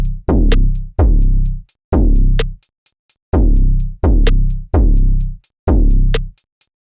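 808 bass run through wavefold saturation with the drive turned up, a loud pattern of punchy booming hits with gritty distorted harmonics and sharp clicky tops, repeating in a steady beat-like rhythm.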